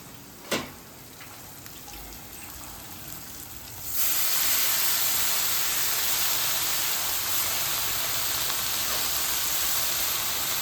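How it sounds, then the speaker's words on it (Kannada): Spices hit hot oil with a sudden loud sizzle, settling into a steady, close crackling hiss that continues to the end without any talking. "ಅಡುಗೆಯಲ್ಲಿ ಬಗ ಹಾಕಕ್ಕೆ ಆವಾಜ್ ಚಲೋ ಬರ್ತದೆ"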